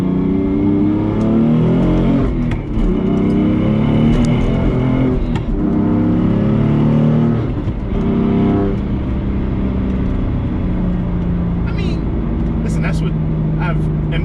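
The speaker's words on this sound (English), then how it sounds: "You do hear a lot of the jittering in the tranny" A BMW F80 M3 with aftermarket drivetrain parts is driven on a wet road, its engine droning loudly and steadily throughout with a shifting pitch, while the transmission is said to jitter.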